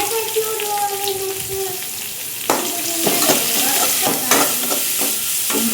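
Onions frying lightly in a pan with cumin while making Mangalore-style chicken sukka give a steady sizzle and hiss, with stirring scrapes and clinks, some tap water running nearby and a faint voice in the background.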